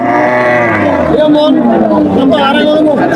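A cow bellows a long, loud moo close by at a busy Eid cattle market in a village bazaar, with crowd chatter and voices running underneath.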